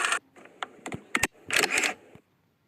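Camera shutter effect from an editing sound library: a burst of sharp mechanical clicks and a whirring wind, loud and close, ending in silence.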